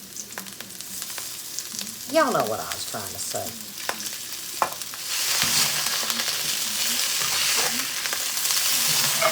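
Chicken sizzles in a hot wok while a voice speaks briefly, then the frying swells into a loud, steady hiss with occasional stirring scrapes.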